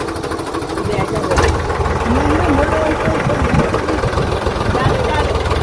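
A tractor engine idles close by with a steady, loud, throbbing chug that continues without a break, and a voice calls out over the running motor.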